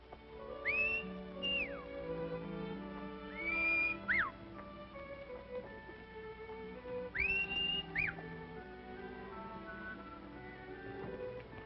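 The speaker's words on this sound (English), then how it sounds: "I could have sworn I recognized that whistle." A person whistles a few rising and falling phrases, clear and fairly close, with short gaps between them over a faint background.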